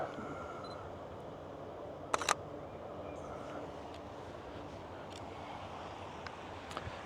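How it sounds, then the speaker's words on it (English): Two quick shutter clicks from a Sony A7 camera sound in a pair, sharp and close, over steady outdoor wind noise, with faint clicks later. "Maybe you heard the shutter sound."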